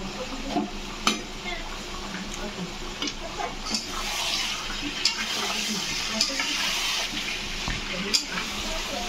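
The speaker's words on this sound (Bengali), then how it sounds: "তারপরে মটনটা আমার কষানো হয়ে গেছে" Mutton sizzles while being stir-fried with spices in a pan, with steady frying hiss and scattered scraping stirs of a spatula, and someone talks over it.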